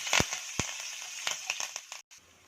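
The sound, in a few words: curry leaves and asafoetida sizzling in hot oil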